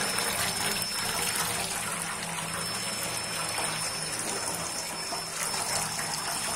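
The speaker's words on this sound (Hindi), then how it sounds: "मेथी को अच्छे से धोया जाता है, अच्छे से नहीं धोएंगे तो इस पे मट्टी होती है काफी सारी" Fenugreek leaves being washed in water in a kitchen, a steady, loud, continuous wash of running and splashing water throughout, with no talk.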